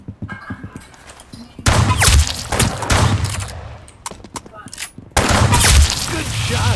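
Loud bursts of gunfire from a shotgun in Roblox Arsenal, two heavy clusters of shots separated by a quieter gap, with someone talking between the blasts.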